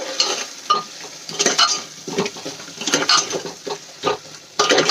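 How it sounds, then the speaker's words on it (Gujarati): Onions being stirred into a spiced gravy in a pan, with repeated close scraping and clinking strokes over a soft steady sizzle. "ડુંગળી એડ કરીને આપણે એને સરસ રીતે ગ્રેવીમાં મિક્સ કરી લઈશું"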